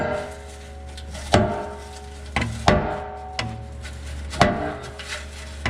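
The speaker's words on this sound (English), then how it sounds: "take this here hammer and just sort of pound up there" Metal clanks from a hammer pounding a pickup's tailpipe to loosen it during a Ram mid-muffler delete, several irregular blows spaced a second or so apart, close and ringing, with no talking.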